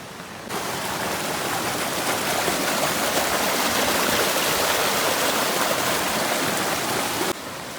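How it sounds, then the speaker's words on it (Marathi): Flood water after heavy rain rushes through damaged earthen embankments between farm fields, a loud, steady, close roar of pouring water that holds unbroken throughout, with no voices. "प्रत्येक बांधातनं पाणी येतंय."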